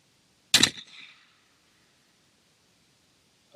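A single sharp shotgun blast fired at a clay target during trapshooting, loud and close, with a short decaying echo that trails off into silence.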